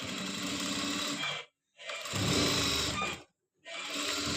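An electric sewing machine stitches a salwar cuff in three continuous runs of rapid, even whirring, broken by two short silent pauses, close and fairly quiet.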